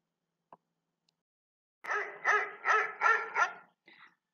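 A dog barks five times in quick succession, clear and fairly close, then gives a short yip; a faint tap comes earlier in near silence.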